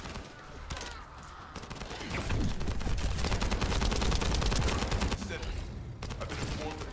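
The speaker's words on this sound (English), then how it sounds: "I can shoot through the shield too." Rapid gunfire rattles in the video game The First Descendant, dense automatic bursts building to a sustained loud volley in the middle, with a voice talking faintly underneath.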